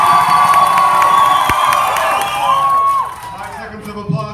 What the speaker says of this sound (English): Give me 5 seconds of applause over here.